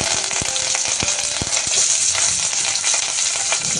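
Curry leaves and onion fry in hot oil for a potato curry, giving a loud, continuous sizzle with a few crackling pops and stirring scrapes, close up.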